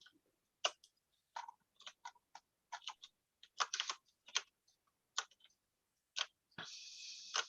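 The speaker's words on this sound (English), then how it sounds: "I see Jen was typing into the chat there" Typing on a computer keyboard during an online meeting, heard as irregular bursts of close, crisp key clicks with short pauses, ending in a longer steady hiss-like run of rapid keystrokes.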